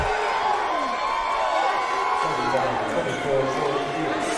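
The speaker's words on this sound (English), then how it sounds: "The home crowd is not happy about that." Home crowd at a Wayland Baptist vs SAGU NAIA men's basketball game rumbles and jeers in displeasure, a sustained mass of raised voices and shouts with a commentator talking over it.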